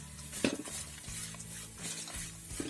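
Grated coconut frying in a pan, a soft low sizzle under a few light stirring scrapes and a utensil clink, close but quiet.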